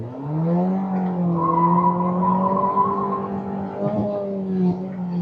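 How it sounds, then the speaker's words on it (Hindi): A Volkswagen Virtus GT manual with traction control off spins its wheels, tyres squealing in a long sustained howl over the engine's rising drone, loud and close, with a brief dip before the screech resumes. "आइए व्हील स्पिन करके देखते हैं क्या व्हील स्पिन होता है।"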